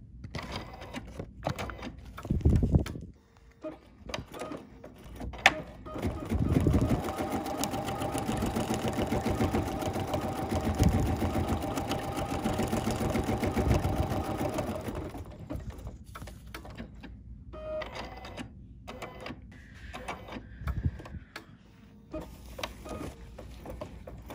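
An embroidery sewing machine stitches fabric in a long steady mechanical run of rapid needle strokes, preceded and followed by short clicks and handling noises.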